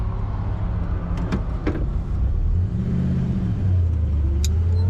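A 1965 Chevrolet Chevelle Malibu convertible with a three-on-the-tree manual transmission runs smoothly with the top down, its steady low engine hum close by, with a few light clicks and a slight rise in engine note partway through.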